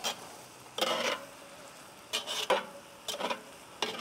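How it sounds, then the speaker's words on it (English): Sausage and eggs being stirred in a cast-iron Dutch oven, giving a few separate bursts of scraping and sizzling with quiet gaps between them and no talking. "stir this up a little bit"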